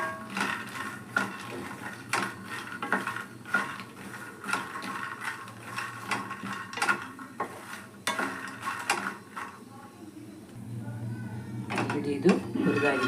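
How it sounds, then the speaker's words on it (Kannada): Makhana (fox nuts) roasting in a pan over a medium flame, a continuous rattling and scraping as the nuts are stirred, with soft irregular knocks and a faint sizzle throughout. "ಈ ಬೀಜವನ್ನು ಹುರಿದುಕೊಳ್ಳೋಣ. ಮಧ್ಯಮ ಫ್ಲೇಮಲ್ಲಿ ಹುರಿಯೋಣ."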